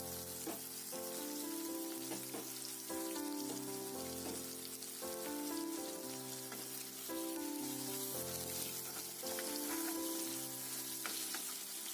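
Onion and ginger-garlic paste fry in hot mustard oil with a steady, even sizzle throughout, partly masked by tuneful background music.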